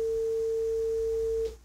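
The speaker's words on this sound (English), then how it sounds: "That's a simple sound wave that we call a periodic wave, or sine wave" A pure, steady sine wave tone holds at one pitch, loud and alone, for about a second and a half before cutting off abruptly.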